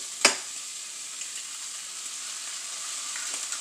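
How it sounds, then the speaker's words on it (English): Eggs fry in a hot pan for breakfast with a soft, steady sizzling hiss, led by a single sharp tap. The sound is quiet and close with no talk. "So I'm ready to throw in these eggs."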